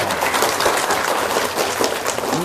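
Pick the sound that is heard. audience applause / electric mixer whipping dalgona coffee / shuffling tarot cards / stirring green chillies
audience applause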